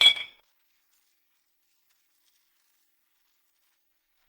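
Glasses clink once in a celebratory family toast, a single bright, short chime at the very start that rings out quickly and is followed by near silence.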